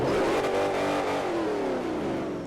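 A fully built Ford GT500 in Forza Horizon revs loudly and steadily, its engine note holding a continuous roar with a slowly falling pitch sweep as it pulls from a dig, no voices over it.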